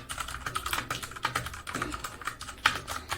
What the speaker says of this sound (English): The spacebar is the noisiest one